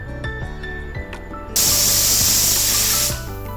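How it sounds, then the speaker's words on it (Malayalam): A pressure cooker on the stove cooking tapioca hisses loudly in a sudden sustained steam burst lasting about a second and a half, then cuts back. Quieter kitchen clinks come before it, and nobody speaks. "ഒറ്റ വിസിൽ മതിയാവും ഇത് വേവാനായിട്ട്"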